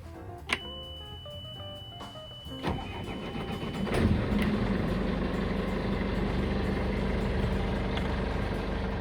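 A boat engine with a newly repaired alternator cranks with a few sharp clicks, catches after a few seconds, then settles into a steady, continuous idle rumble.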